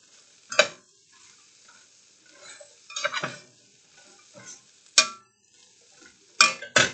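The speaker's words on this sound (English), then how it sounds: "Mix that all together" Sloppy joe meat mixture being stirred in a pan, several sharp spoon scrapes and clinks against the metal arriving in irregular bursts over a faint sizzle, with no talking.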